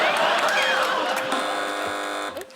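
A game show buzzer on a TV panel quiz sounds as a steady electronic tone lasting about a second, with a murmuring crowd in the background.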